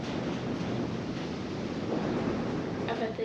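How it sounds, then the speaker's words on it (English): Wind blows outside a drafty cabin with holed tar paper: a steady, loud, broadband rush of gusting air buffeting close around the microphone throughout, with no voices. "Listen to the wind."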